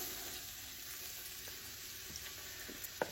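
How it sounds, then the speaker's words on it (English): Vegetables sizzle in melted butter in a soup pot, a steady, fairly faint frying hiss with no talk, and a small clink near the end. "We've got our butter mostly melted now. We're going to go ahead and throw our vegetables in."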